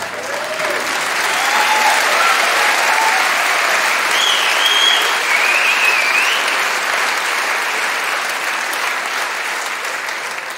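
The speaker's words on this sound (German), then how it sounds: "da könnt ihr klatschen, wie ihr wollt" A big audience claps loudly at a comedy stage show during a song, a dense, sustained roar of applause with a few whoops rising above it, holding steady for about ten seconds before easing slightly.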